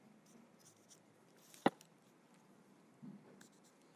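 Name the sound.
measuring and marking with a ruler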